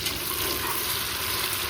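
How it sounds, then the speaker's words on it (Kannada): Mint and coriander frying in a pan for masala ghee rice: a steady, even sizzle with a soft watery hiss, constant and moderately quiet throughout with no talk. "ಇದನ್ನ ನಾವು ಇವಾಗ ಒಂದು 5 ಮಿನಿಟ್ಸ್ ಫ್ರೈ ಮಾಡ್ಕೊಳ್ಳೋಣ."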